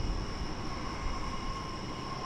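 An Alaska Airlines Boeing 737 MAX jet at DFW Airport gives a steady, broad engine roar with a faint whine on top, constant and fairly distant, with no voices.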